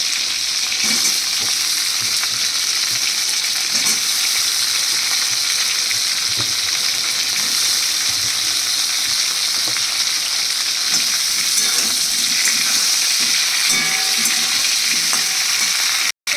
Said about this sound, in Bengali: এবার আমার এই আলুগুলি, পটলগুলি সবই ভাজা হয়ে গেছে।